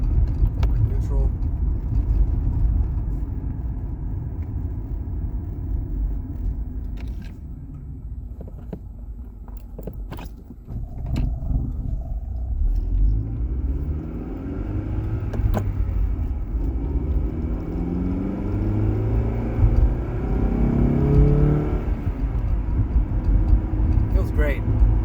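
A Honda Accord with a manual transmission drives over a bumpy road, a steady low engine rumble and road noise throughout with rising revs as it pulls through the gears, while someone talks over it.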